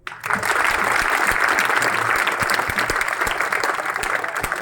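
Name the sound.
children clapping after a play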